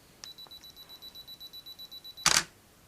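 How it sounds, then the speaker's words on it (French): A Yongnuo camera flash fired by remote trigger: a high steady charging whine with rapid regular pulses for about two seconds, then a sharp loud burst as it fires, close up and alone. "Voilà, mon flash s'est déclenché."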